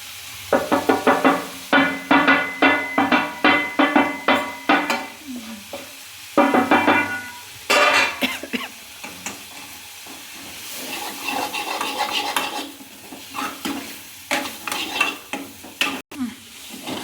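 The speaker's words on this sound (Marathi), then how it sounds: "लगेच आता शेंगदाण्याचं कूट टाकून घेऊ आपण याच्यात." Crushed peanut powder is stirred into cowpea curry frying in a pan, with repeated rhythmic scraping strokes close up over a steady sizzle, pausing briefly between bursts of stirring.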